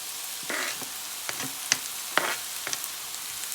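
Onions and green onions sizzle in a pan for a Guyanese breakfast, a soft steady frying hiss with brief bursts and light clicks as they are stirred.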